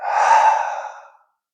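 Someone exhales a held breath during a breathing exercise, a single long airy breath out lasting just over a second, close and clear, fading smoothly into silence.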